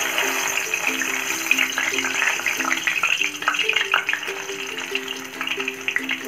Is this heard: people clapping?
no